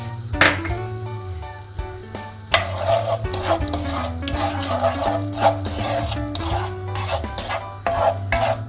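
Butter and sugar melting and sizzling in a frying pan as an apple cake is made, with a loud, steady sizzle and repeated stirring strokes against the pan, close and alone with no voices.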